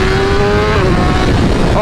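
BMW S1000RR sport bike running E85 fuel, accelerating on the road, a loud close engine howl climbing in pitch, then easing into a rougher rumble within a couple of seconds.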